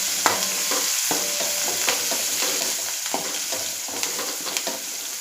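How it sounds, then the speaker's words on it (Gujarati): Green chillies fry with browned garlic in hot oil in a kadai, giving a steady bright sizzle broken by repeated clinks and scrapes of stirring. "હવે એમાં મરચાં નાખવાના છે। મરચાંને આપણે એકદમ સરસ રીતે તળાવવા દેવાના છે।"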